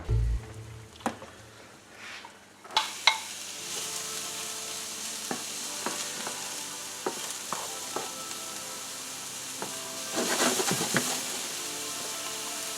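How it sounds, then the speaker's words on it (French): Mushrooms sear hard in a hot frying pan, a steady sizzle broken by utensil clicks and scrapes as they are stirred, rising to a louder crackling burst near the end. "Les champignons, on les fait saisir bien fort"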